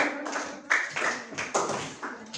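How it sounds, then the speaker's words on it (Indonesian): A classroom of sixth-grade pupils in an Indonesian school claps for group 3 in a brief, uneven burst of hand claps, close and moderately loud, with a few separate sharp claps standing out. "Tepuk tangan untuk kelompok 3."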